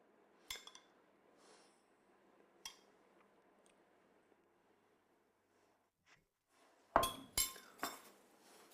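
A spoon clinks against a dish while dressing is spooned onto beet carpaccio with feta: a few sharp isolated taps early on, then a close cluster of louder clinks near the end, over near silence.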